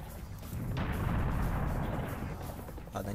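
Loud booming weapon fire from a grenade launcher in the video game Serious Sam: The First Encounter, played in co-op, a dense sustained roar of blasts with rumbling low end and a sharp pop near the end.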